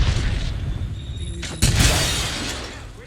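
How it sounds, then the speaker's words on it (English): A grenade explodes in the Apex Legends battle-royale shooter: one sharp, loud blast bursts out about halfway through over steady low game rumble, then its roar slowly fades. "They just threw a grenade up."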